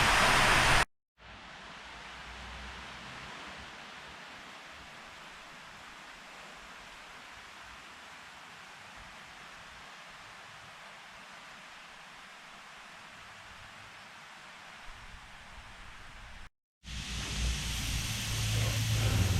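Hydroblasting alloy motorcycle crankcases: a steady, loud broadband hiss of pressurised water blasting continues for about fifteen seconds, starting and stopping abruptly.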